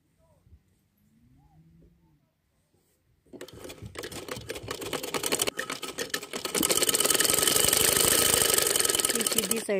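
A sewing machine stitching the button placket of a men's kurta, starting after quiet handling with a fast, loud mechanical rattle that speeds up and grows louder toward the end, with brief voice at the start.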